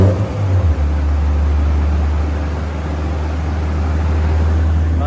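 A Honda S2000 engine runs on a dyno during a power pull, giving a loud, steady drone with a strong low hum and broad roaring noise that holds at high revs throughout.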